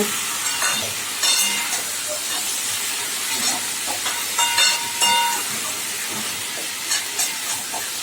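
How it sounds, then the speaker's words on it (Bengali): Whole garam masala, dried red chillies and bay leaves sizzle and crackle in hot oil left from frying chicken, a steady hiss with scattered pops and light stirring. "ওই তেলেই আমি এবার গরম মশলা, শুকনো লঙ্কা, তেজপাতা ফোড়ন দিয়ে দিলাম"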